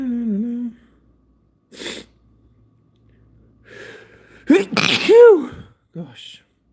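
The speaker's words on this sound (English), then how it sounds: "This is a sneeze." A single loud, close sneeze bursts out after a short breathy intake and a few quiet sniffs, followed by a brief exhale, with a voice heard at the start.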